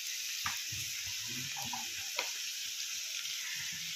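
A pinch of asafoetida (hing) sizzles in hot oil while making chicken patiala, a quiet, steady hiss with a couple of faint clicks underneath.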